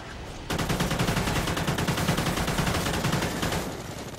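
An automated turret fires in the alien mode of Call of Duty: Ghosts. After a brief quiet start, a loud, dense burst of rapid-fire shots runs continuously for about three seconds, then trails off.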